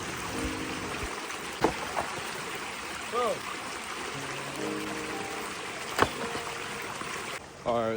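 A loud creek flows through the woods in a steady broadband rush of water, with occasional knocks and clatters of rocks being placed and a person talking faintly beneath the noise.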